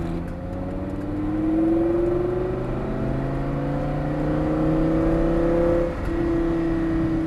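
Lamborghini Gallardo supercar pulling out of a chicane on a driving day, its engine note climbing steadily and loud in a long continuous acceleration, with a short dip near the end before it resumes.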